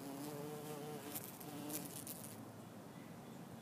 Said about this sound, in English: Got a little bumblebee hanging out.